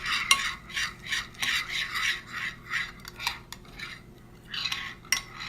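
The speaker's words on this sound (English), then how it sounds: "Alright, I'm gonna stir it again." A spoon stirring an edible glitter paint mixture in a small dish, repeated scraping and rubbing strokes in an uneven rhythm, close and fairly quiet, no talk.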